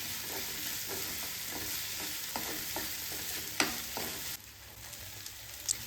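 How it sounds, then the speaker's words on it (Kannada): Ginger, garlic and green chillies fry in a pan with a steady sizzle, while a spoon knocks against the pan in a regular rhythm. The frying drops quieter near the end. "ಅದನ್ನು ಹಾಕಿ ಇಲ್ಲಿ ನಾನು ಚೆನ್ನಾಗಿ ಫ್ರೈ ಮಾಡ್ಕೋತಾ ಇದ್ದೀನಿ."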